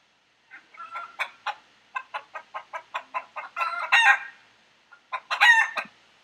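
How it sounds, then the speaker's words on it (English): A chicken clucks in a series of short, quick bursts, building to louder, drawn-out squawks, then a brief pause and a final loud call. "Here's chicken."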